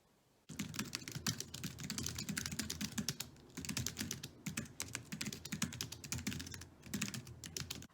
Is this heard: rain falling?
no